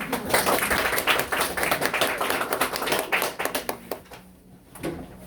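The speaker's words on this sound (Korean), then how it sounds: "박수 한번 세게 쳐보시죠." An audience at an admissions briefing session claps loudly and irregularly for several seconds, the applause thinning out and stopping near the end.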